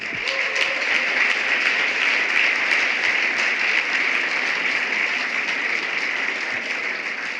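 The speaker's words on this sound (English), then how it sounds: "Please applause." Sustained audience applause fills the hall at the EPFL My Thesis in 180 Seconds finals, a dense, steady wash of many hands clapping at even loudness throughout, with no talk on top.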